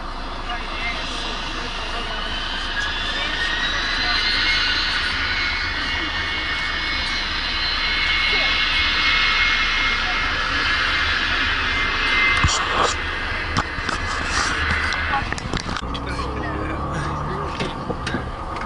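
An Embraer jet airliner starts its takeoff run at Zurich Airport: a broad, steady engine roar with a rising whine fills the scene continuously, loud and sustained for the whole stretch.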